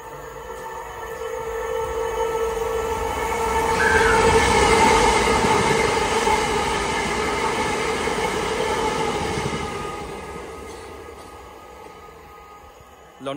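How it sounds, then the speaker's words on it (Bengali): A C2C train bound for Southend races past a London platform at high speed, its roar swelling over several seconds with a squeal of wheels and a tonal whine, then fading away. "C2C আসতেছে, পাগলা ট্রেন,"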